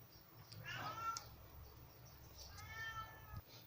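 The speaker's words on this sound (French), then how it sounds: "elle miaule pour que je vais voir" Cat carrying her yarn balls around the house meows twice in two drawn-out cries, near and clear over a low background hum.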